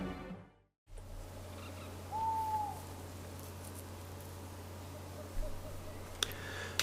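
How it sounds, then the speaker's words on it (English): Owls hooting in the background of a Mount and Blade line-battle map, a steady low ambient bed under a single sustained hoot near the middle, with faint talk and a few sharp clicks toward the end. "we return after a map change, ladies and gentlemen, with owls hooting in the background"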